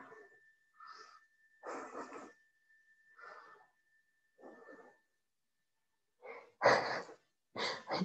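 Someone practicing yoga in the background makes soft breathing noises, a series of short breathy bursts at irregular intervals that grow louder toward the end, with a faint steady tone underneath.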